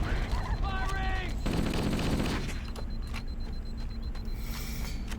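Rapid bursts of gunfire crackle in Halo: Combat Evolved, a dense volley early on giving way to scattered single shots, with a voice briefly heard under the firing.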